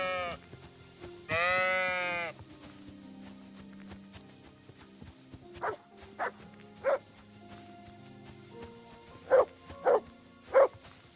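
In the medieval game Kingdom Come Deliverance 2, a dog barks in short sharp bursts among bleating sheep, with one long bleat early on followed by a string of spaced barks, close by.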